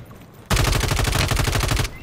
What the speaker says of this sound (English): That's how many shots were at me.